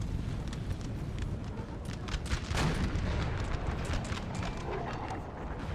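Distant crackling musket volleys and dull artillery booms from a Napoleonic Total War 3 battle roll on steadily at low volume, a busy far-off battlefield din with no clear talk.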